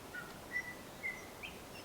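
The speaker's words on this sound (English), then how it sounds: "sound of the birds," Faint, thin bird chirps call from a distance in a dense, shaded New Zealand forest, a few brief notes over a steady airy hiss.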